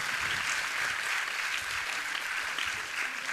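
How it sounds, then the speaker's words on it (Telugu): A church congregation at a feast of Our Lady of Mount Carmel breaks into loud, sustained clapping, a dense crowd applause that carries evenly from start to finish without talking. "చప్పట్లు కొడదాం ఒకసారి గట్టిగా ప్రియులారా"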